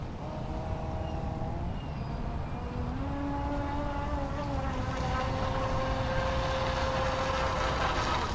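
Pro Boat RC boat, either a Recoil 2 18-inch or a BlackJack 26-inch, running on water in windy conditions, its electric motor whining in a steady tone that rises in pitch as it speeds away, with splashing and wind noise underneath.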